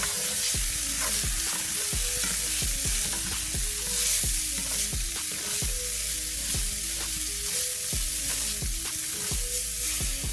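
Seasoned food sautés in a pan over medium-low heat, seasoned with garlic powder, onion powder, white pepper and salt, giving a steady close sizzle with a regular rhythmic scraping of a utensil stirring throughout, no voices.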